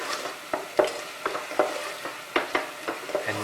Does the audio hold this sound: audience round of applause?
no